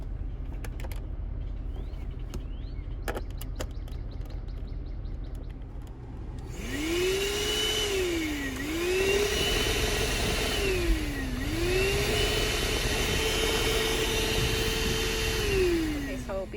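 A corded car vacuum cleaner switches on after about six seconds of quieter handling noise, then runs loud and steady, its motor pitch rising and dipping a few times as the airflow changes.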